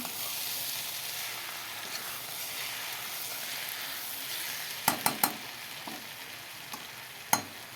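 Fish head, pieces of fish, potatoes and onions fry together in a pan with a steady, even sizzle, broken near the end by a few sharp clinks from a spoon or utensil against the pan.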